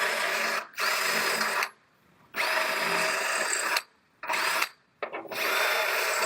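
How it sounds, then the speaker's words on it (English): Power drill boring out spot welds on the damaged rear body panel of a Honda CR-V, loud high-pitched whining bursts that stop and restart several times with short pauses between. "So as I'm drilling these out,"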